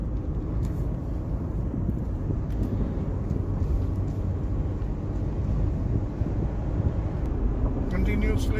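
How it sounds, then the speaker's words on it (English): A car cruises on a freeway with its engine held steady at 2500 RPM, a continuous low rumble of engine, road and wind noise filling the cabin without a break, with no talk. "Now we're going to drive at the speed of 2500 RPM constantly."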